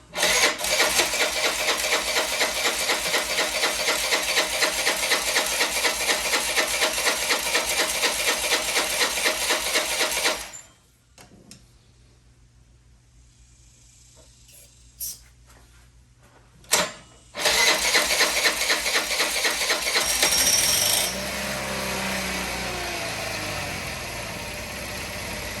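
Honda Elite 80 scooter engine running roughly with a loud, uneven rattling putter, cutting out to near silence with a couple of brief bursts, then restarting and running rough again.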